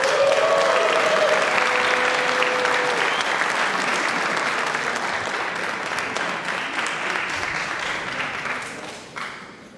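Dense, loud audience applause fills a stage presentation hall at the GEN-E 2022 event, a steady wash of many clapping hands that holds throughout and tapers slightly toward the end.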